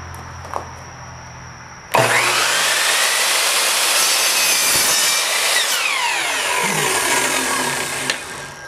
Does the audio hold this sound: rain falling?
no